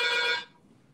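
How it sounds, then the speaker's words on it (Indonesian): A telephone rings in an indoor setting with one loud, bright electronic ring burst that cuts off abruptly after about half a second, leaving quiet room tone. "Ada telepon."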